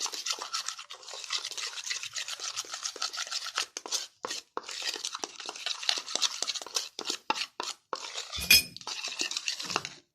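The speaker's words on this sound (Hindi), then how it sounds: "इसको अच्छी तरह मिक्स कर लेंगे।" A face pack stirred in a bowl, with steady scraping and clinking of a spoon against the bowl, close and continuous with brief pauses and a sharper clink near the end.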